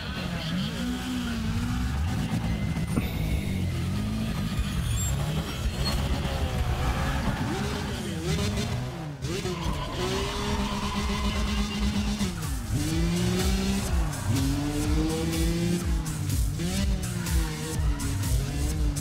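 A BMW M3 race car in Need for Speed ProStreet, on a sector shootout, roars loudly and without pause, its engine pitch climbing and dropping through repeated gear shifts, with a voice talking over it.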